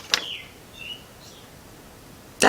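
A bird calls twice in the evening, each time a brief sharp burst that is loud and close, with faint thinner chirps between them against a quiet background.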